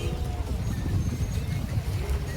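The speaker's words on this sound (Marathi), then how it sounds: "त्यांचं बोटिंग प्रोग्राम चालू आहे." Steady low rumble and water wash during a boat ride on a lake, with wind buffeting and faint background voices throughout.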